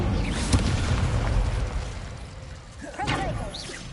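An Incendio fire spell in Hogwarts Legacy, a muffled fiery boom and rushing burst followed by a second whooshing flare, with a voice briefly audible.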